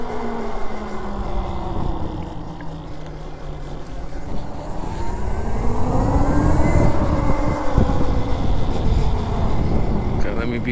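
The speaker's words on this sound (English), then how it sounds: "these tires are so loud" Razor MX500 76V e-bike riding along with loud tires, a steady rolling drone and rising whine under wind and traffic noise, continuous and fairly loud throughout, with voices faint in the mix.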